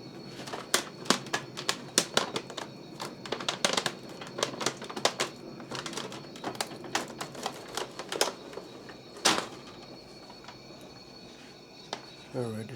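An Epson printer runs a test page, its print head rattling in rapid, uneven bursts of clicks and clacks, with one louder mechanical clunk near the end.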